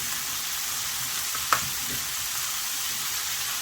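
Chicken sizzles steadily in a pan over a medium gas flame, a constant close frying hiss with one brief clink partway through.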